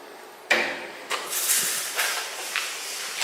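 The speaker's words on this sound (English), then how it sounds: "I saw this door move." A door in an abandoned building is opened, giving a sudden scrape followed by a hissy, grinding slide and a few further bumps and creaks.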